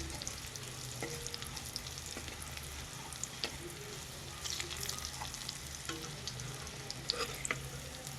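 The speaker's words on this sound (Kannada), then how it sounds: "ಗೋಲ್ಡನ್ ಕಲರ್ ಬ್ರೌನ್ ಬಂದರೆ ಸಾಕು ನಮಗೆ ನೋಡಿ ಎಷ್ಟು ಚೆನ್ನಾಗಿ ಬೆಳ್ಳುಳ್ಳಿ ಬೇಯುತ್ತಿದೆ" Garlic frying in a pan gives a continuous close sizzle and crackle. Soft stirring scrapes and small pops come through, with no talking.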